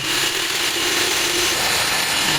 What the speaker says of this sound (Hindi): ड्रिल में आगे सरिया आ गया है, जिसकी वजह से ये कटाई नहीं हो रही